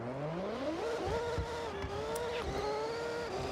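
A front-wheel-drive car in the Forza Horizon racing game revs up through a corner, its engine tone climbing then holding steady over faint tire noise, moderately loud and continuous.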